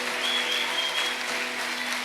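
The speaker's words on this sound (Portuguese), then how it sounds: "Aplaudam bem forte o nome de Jesus." A church congregation applauds steadily and evenly for the whole stretch, a dense, sustained wash of clapping with a faint tonal hum beneath it.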